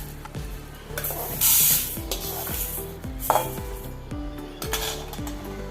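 Horse gram is swished and rinsed in water inside a metal vessel, with repeated clinks and scrapes against the pot, bursts of splashing, and no voices.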